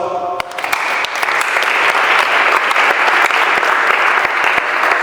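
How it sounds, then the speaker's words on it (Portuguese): Dense, steady applause from a large crowd, loud and sustained throughout with sharp individual claps standing out. "Uma salva de palmas"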